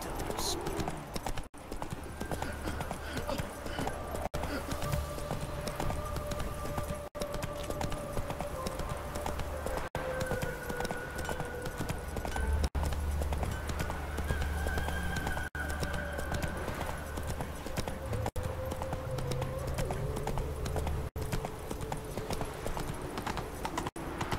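Roach, Geralt's horse in The Witcher 3, moving at a steady pace with continuous rhythmic hoof clip-clops, heard under game music and characters' dialogue throughout.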